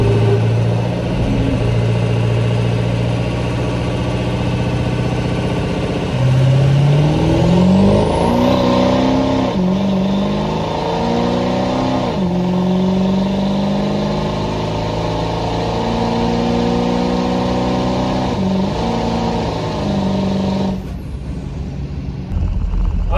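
Heavy 8,000-pound diesel truck at a drag strip, its engine idling loudly then revving in several rising and falling pulls, a steady close rumble throughout.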